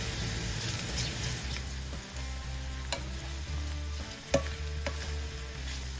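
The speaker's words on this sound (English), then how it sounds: "To this, add in your can of flat anchovies and melt that in." Canned flat anchovies melt into onions and olive oil in a pan with a steady close sizzle, broken by occasional light clicks of stirring.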